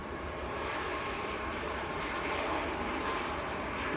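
Ryanair airliner on its takeoff roll at Manchester Airport, a steady broadband jet roar held at constant loudness throughout, no voices.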